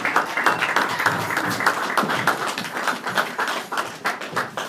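A church congregation bursts into sustained, dense applause that fills the room, with a loud clatter of many hands clapping at once.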